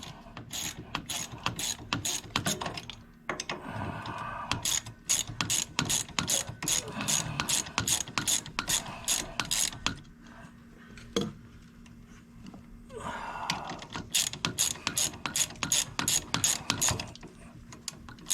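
A hand ratchet wrench loosens a 12mm bolt on a Honda Helix scooter engine, giving quick close-up bursts of sharp rapid clicking separated by short pauses, with faint metallic handling noises in between.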